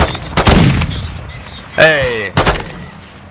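Gunfire in the video game Call of Duty Warzone 2.0, loud bursts of shots near the helicopter, with a player shouting briefly between the volleys.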